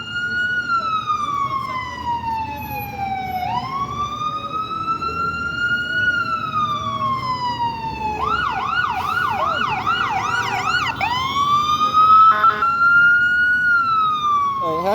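An emergency vehicle siren wails through city traffic, sweeping up and down steadily, then switching to a faster yelp pattern with short bursts, loud and fairly close over a continuous road rumble.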